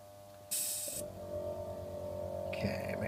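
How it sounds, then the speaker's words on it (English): Airbrush compressor for painting a model kit frame starts with a brief hiss, then settles into a steady mechanical hum and rattle, close and continuous, with another short hiss near the end. "Turn this compressor up."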